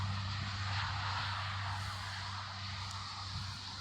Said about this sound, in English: I can hear more planes tucked in the background